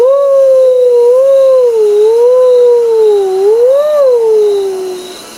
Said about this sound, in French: C'est alors que Patapouf se met à hurler comme un fantôme.